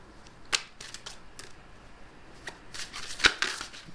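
Tarot cards being shuffled at close range, a few quiet riffles and soft card flicks with sharper snaps near the end, no voices.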